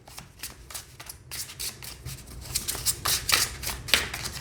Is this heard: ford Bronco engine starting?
no